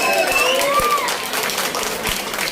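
A wedding audience claps in a dense burst of applause, loud and close, with mixed crowd noise and a few voices under it.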